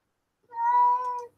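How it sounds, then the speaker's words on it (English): A house cat gives a single clear, drawn-out meow lasting under a second, close and fairly loud against a quiet room while wanting to go out during New Year fireworks. "Yes, the cat's meowing, wanting to go out."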